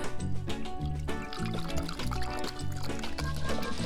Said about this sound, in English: Now I've got this cola beverage here, and let's pour some in the cup.